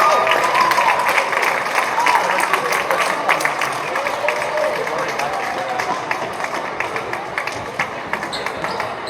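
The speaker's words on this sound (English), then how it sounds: "A round of applause again." A school gym crowd at a Rochester versus North Miami boys basketball game claps in a dense, sustained round of applause that gradually thins, with voices mixed in.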